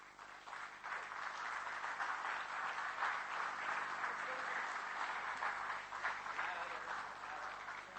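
Audience applause at a book release event for an admiral's memoir, a steady, sustained wash of many hands clapping at moderate distance, even in level for the whole stretch.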